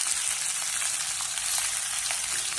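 Turmeric and green chili fry in hot oil in a pan, giving a continuous crackling sizzle at moderate volume with small scraping bursts from stirring, no voices.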